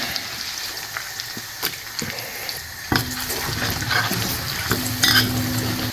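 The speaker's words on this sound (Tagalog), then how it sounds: "ating sangkutsahin lang to. Parang ginisa natin sa sariling mantika." Beef fat renders and fries in its own oil in a pan. A steady sizzle runs throughout, with scattered clicks and scrapes of stirring and no talk.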